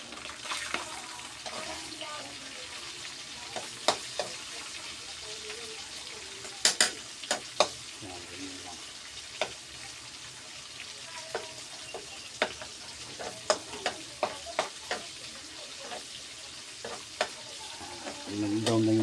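Garlic sautés in a pan for pork ampalaya, a low, steady sizzle running throughout, broken by scattered sharp clinks and scrapes of a utensil against the pan.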